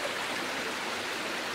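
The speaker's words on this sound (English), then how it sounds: "There's the creek flowing." A creek at a rural wedding venue flows in a steady, close rush of water, even and unbroken, with no voices over it.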